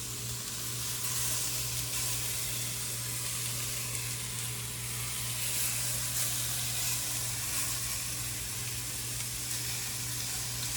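Lemon herb chicken meatballs sizzle in a pan, a continuous soft frying hiss with a low steady hum beneath, fairly quiet and unbroken for several seconds, no speech.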